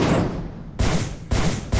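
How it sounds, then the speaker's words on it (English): A fire barrage attack in the RPG Stoneshard lands as a quick series of about four loud, crackling fiery bursts, each hitting sharply and then fading before the next. "We'll try to fire barrage him"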